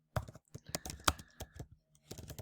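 Someone types on a computer keyboard in a quick, uneven run of sharp, close key clicks with short pauses between bursts.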